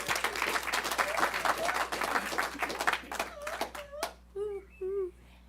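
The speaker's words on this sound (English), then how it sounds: "Let's give her a round of applause." Applause from a Sunday service congregation, a dense burst of many hands clapping with cheering voices, thinning out over a few seconds before a voice speaks alone near the end.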